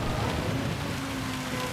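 Rain during a Gran Turismo 7 race, a steady dense hiss of falling rain and spray, moderately loud and unbroken, with no voices.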